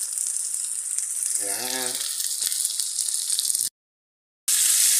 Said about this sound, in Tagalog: ginigisarap natin ang ating bawang at ang ating sibuyas